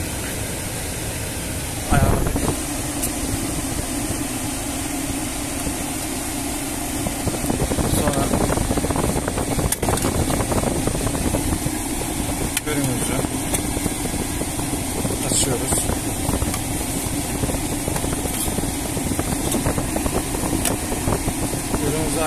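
A car's air conditioning blows with a steady, broad whoosh close by, continuous throughout, with a few faint clicks and brief bumps.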